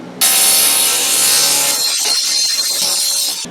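A saw rips a 4x8 sheet of plywood in half, giving one loud, continuous close-up cut that runs for about three seconds and then tapers off with rough rasping.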